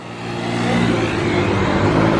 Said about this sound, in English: Loud traffic.